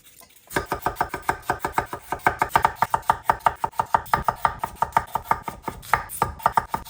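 A knife chopping potatoes into small pieces on a board for a potato and fenugreek dish, a fast steady run of crisp close thuds that starts after a brief pause and keeps an even rhythm.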